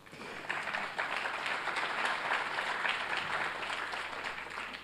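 An audience applauds at a conference on women and science as a speaker is welcomed, steady dense clapping that fills the room for several seconds.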